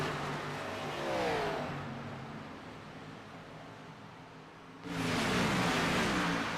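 The number 8 Chevy Camaro race car at Michigan in a racing sim: a whining engine note swells, fades to a low mechanical hum, then returns loud and close with a sharp onset near the end, with no talking.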